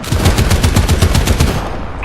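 Rapid automatic gunfire in the War Thunder tank game, a loud close burst of about a dozen evenly spaced shots over a second and a half, then cutting off.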